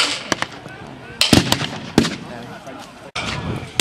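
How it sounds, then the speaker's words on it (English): Gunfire at an outdoor D-Day battle reenactment, with German machine guns firing on advancing French troops: scattered sharp cracks and short bursts ring out across the field, some loud and close, others more distant, over a steady background murmur. "The French gallantly pushing forward, straight into the teeth of the German machine gun fire."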